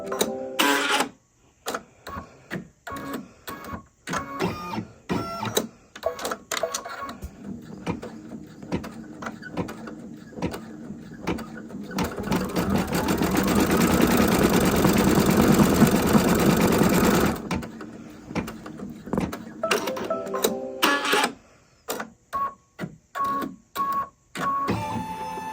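Sewing machine stitching to tack metal hardware onto a squishy rainbow bag tag, a steady loud whirring run of several seconds framed by short bursts of stitching and handling clicks.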